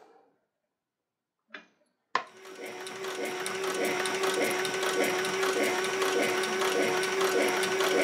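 Sewing machine stitching a leather mechanic's belt: after a couple of quiet clicks and a brief pause, a steady rapid clatter of needle strokes starts up close and runs continuously, with no voices over it.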